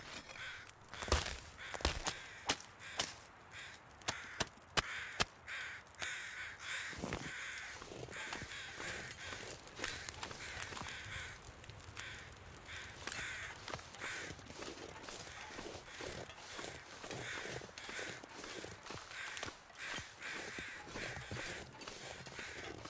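Crows caw faintly and repeatedly in The Long Dark survival game, scattered over a foggy outdoor ambience with soft crunching footsteps and clicks.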